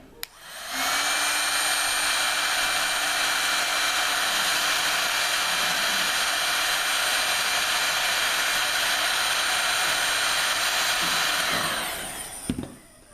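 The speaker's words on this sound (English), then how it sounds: "Then we take the hot air gun and" A hot air gun shrinking heat shrink tubing over cables, switching on with a click into a steady loud blowing whine that holds for about eleven seconds before cutting off.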